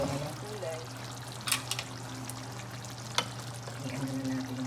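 Spanish-style boneless milkfish (bangus) cooking in olive oil gives a steady low sizzle and bubbling, with a few sharp clicks and pops, close and moderately loud throughout.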